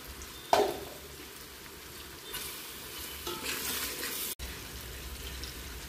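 Tomatoes and pav bhaji masala spices frying in a pan give a steady, soft sizzle, broken by a sharp stirring scrape near the start and a brief hissing swell midway.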